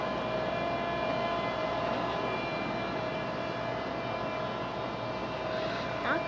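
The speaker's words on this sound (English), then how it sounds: "There's our A220." An Airbus A220 airliner at Raleigh Durham International airport gives off a steady, moderately distant engine drone with a faint high whine, continuous throughout with little change in loudness.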